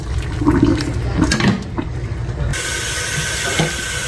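Boiled macaroni noodles are poured into a strainer, hot water rushing and splashing loudly, then a steady running-water hiss from a tap takes over halfway through.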